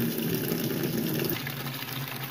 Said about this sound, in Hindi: पानी देखें ऐड होने लग गया